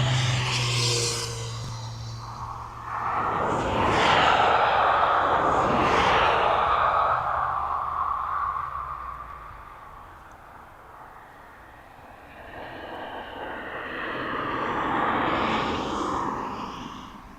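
A Boeing 777 freighter at East Midlands Airport roars past, a broad loud jet rush that swells, fades to a lower rumble, then builds again, heard fairly close with no talk.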